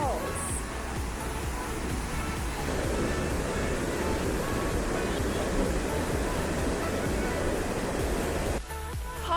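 Dawson Falls in British Columbia, a small wide waterfall, roars as a steady, loud broadband rush of falling water that continues throughout.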